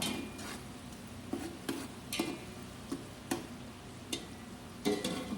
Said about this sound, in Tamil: வெங்காயம் கொஞ்சம் நல்லா வந்து கோல்டன் கலரில் வர வரைக்கும் நல்லா வதக்கணும்